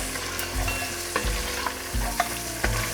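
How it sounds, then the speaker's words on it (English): Lamb rogan josh stirred in a pan after Kashmiri chilli powder and salt go in, low sizzling under four dull scraping thumps of the spoon at a slow, even pace, close up with no voices. "Give this a good mix"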